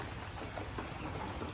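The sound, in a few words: rain falling on a rooftop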